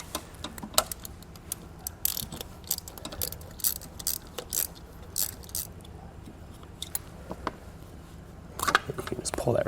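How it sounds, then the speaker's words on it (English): A ratchet with a 7/16 socket loosens the nut on the cap of an RV air conditioner compressor on a 2021 Keystone, giving rapid clicking bursts in irregular runs, close and crisp, with occasional metal clinks. "we're going to take a 7/16 socket, and we're going to take this nut off on our cap on our compressor"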